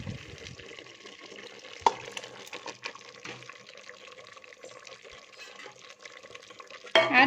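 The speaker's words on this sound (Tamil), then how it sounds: "இதை ஆட் பண்ணிட்டு நல்லா மிக்ஸ் பண்ணிக்கோங்க." Masala paste being stirred into a simmering onion-tomato country chicken curry, village style: soft, continuous scraping and bubbling with a sharp clank near two seconds and a louder burst of stirring at the very end.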